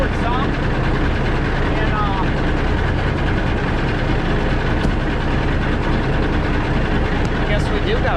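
A cabover truck engine pulling forward: a loud, steady low rumble that runs unbroken from start to finish, with a voice speaking briefly over it.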